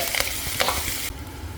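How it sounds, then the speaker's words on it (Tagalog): Pork ribs fry in hot cooking oil with a steady broadband sizzle and occasional stirring scrapes, fairly loud and close, with no talking. "Fry lang natin siya hanggang sa brown ng konti."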